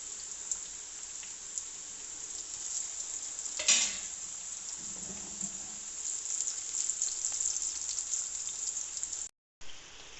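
Papri dough crisps frying gently in hot oil over a low flame, a steady soft sizzle with a brief stirring clatter partway through and a short dropout near the end.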